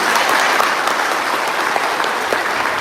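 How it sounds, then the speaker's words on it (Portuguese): Loud, dense applause from a church congregation fills the whole moment, an even wash of clapping with no pauses. "Você pode aplaudir a Jesus."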